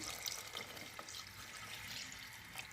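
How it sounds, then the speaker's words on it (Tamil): Mutton cooking water poured into rice in a pot for biryani, a soft continuous splashing trickle of liquid heard close up with no talk. "நம்ம வந்து கறி வேக வச்ச தண்ணி இருந்துச்சு இல்லையா அது வந்து எனக்கு ஒரு ஆழாக்கு அளவுக்கு வந்திருக்கு அதை இதில் சேர்த்துக்கிறேன்"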